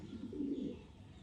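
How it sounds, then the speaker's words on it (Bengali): One low, muffled coo from an unpaired adult domestic pigeon rolls out for about a second, faint and soft, over a quiet background hum. "অ্যাডাল্ট কবুতর অনেক দিন যাবৎ সিঙ্গেল, সে কারণে দেখতে পাচ্ছেন হেভি ডাক দেয়, সারাটা দিন ডাক দেয় সে"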